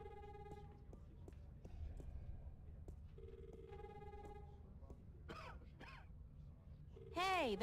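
A telephone rings in repeated electronic bursts in the adventure game The Longest Journey, with sparse tones separated by gaps over a low background hum, and a brief warbling sound near the end.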